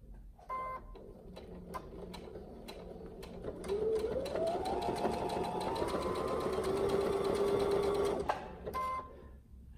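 Brother BQ1350 sewing and quilting machine stitching a blanket stitch, a quiet close mechanical whir that speeds up into a steady rhythmic hum with a rising pitch, then slows and stops.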